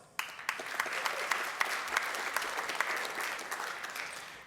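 Audience applause at a downtown San Jose association annual meeting, a steady wash of many hands clapping that starts abruptly and holds at moderate level throughout, with no talk over it.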